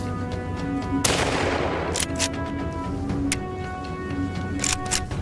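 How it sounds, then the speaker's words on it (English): A single loud gunshot fired at a wild boar during a hunt, a sharp crack followed by a brief rumbling tail, then scattered fainter clicks and knocks. "Then I pulled the trigger. Bang! The boar collapsed the moment the shot rang out."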